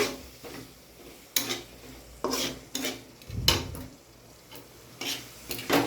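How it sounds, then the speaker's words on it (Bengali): Chopped raw onion fries in hot oil while a utensil stirs and scrapes the pan in separate bursts roughly every second, close by over a faint steady sizzle. "তারপর সেই তেলের মধ্যেই আমি কাঁচা পেঁয়াজ দিয়ে দিলাম, কুচানো পেঁয়াজ।"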